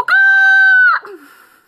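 A human voice imitates a hen with one loud, sustained, high-pitched squawk lasting nearly a second, then a short, fainter trailing sound.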